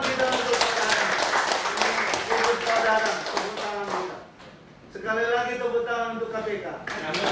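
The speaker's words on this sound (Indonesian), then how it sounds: "Sekali lagi tepuk tangan untuk" A meeting audience in a hall claps in a dense patter of hand claps that stops partway, then resumes, with someone speaking loudly over it.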